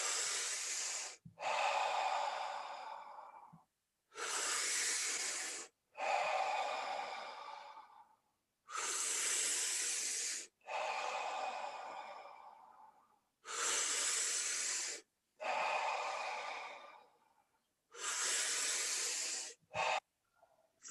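Deep breathwork with a full, long inhale followed by a released exhale, repeated in steady cycles. The loud, close, airy breaths come in paired bursts of about two seconds each, separated by short silences, with no talking.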